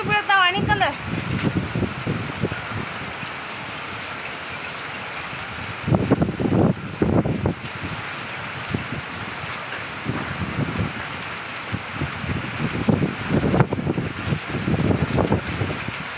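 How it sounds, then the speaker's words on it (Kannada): Hailstones and heavy rain pound down during a spring hailstorm, a steady broadband patter with louder bursts of impacts, while someone talks excitedly throughout. "ಆಣಿಕಲ್ ನೋಡ್ರಿ ಇಲ್ಲಿ ಆಣಿಕಲ್ಲು ಮಳೆ ಅರೆ ಬಾಪ್ರೆ ಮಳೆ"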